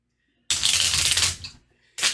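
Gear cards from the Waste Knights board game being shuffled by hand, a close riffling burst lasting under a second, then a pause and a second shuffle starting.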